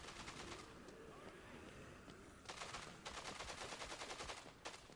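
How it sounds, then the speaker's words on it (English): Rapid bursts of automatic gunfire from an allied character shooting in the Dead Rising 2: Case Zero video game, sustained and loud with brief gaps, dense crackling volleys filling most of the stretch. "Bob is off shooting stuff, being a badass, and he will actually shoot at you if you're in the line of fire"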